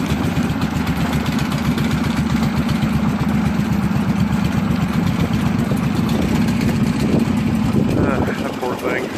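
Wheel Horse tractor engine running steadily after a cold start, a loud continuous low rumble that holds for the whole stretch before dropping off at the end; a voice can be heard faintly over it.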